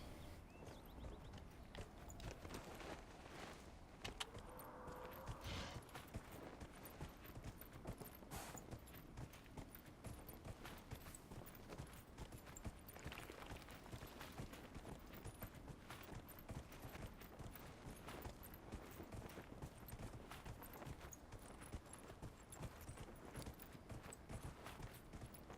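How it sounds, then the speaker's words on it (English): Horse hooves clip-clopping at a quick pace in the video game Dragon Age Inquisition, a steady rhythmic patter running continuously under busy game ambience and music. "it is a little bit faster on the horse"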